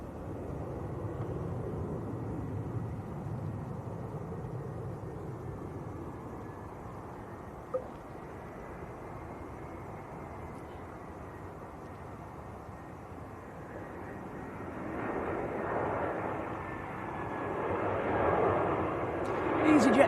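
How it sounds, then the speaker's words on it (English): A Gulf Air Boeing Dreamliner taxis at Manchester Airport, its engine roar a steady, fairly distant rumble that grows louder and broader toward the end, with a brief click partway through. "I see a Dreamliner taxiing out, which looks like a Gulf Air"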